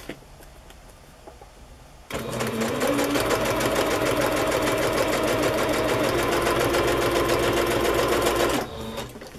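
Sewing machine stitching straight down the center of a paper booklet, a steady rapid mechanical whir that starts abruptly after a quiet moment, runs continuously for about six seconds, then stops.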